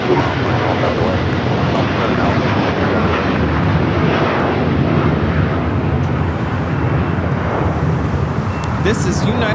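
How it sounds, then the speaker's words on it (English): A United Boeing 787-10 Dreamliner, a heavy jet bound for Tokyo Haneda, takes off at LAX with a loud, continuous broadband jet roar heard from the airfield, steady throughout. "This is United Airlines Flight 39 taking off to Tokyo, Haneda, the 787-10 Dreamliner."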